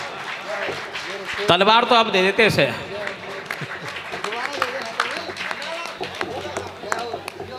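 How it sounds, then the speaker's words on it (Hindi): A crowd at a Hindi veer ras poetry recital claps in a burst of applause under a poet's declaiming voice, the clapping swelling briefly and then continuing as scattered claps beneath the speech. "एक बार और जोरदार तालियां"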